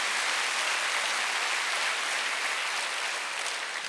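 A church congregation claps together during a Sunday worship service, dense, continuous applause filling the room at an even level for several seconds without pauses.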